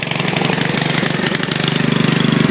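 A riding mower's small engine runs steadily nearby during a rebuild, a loud, rough, rapidly pulsing idle with a knocking chug and no voices.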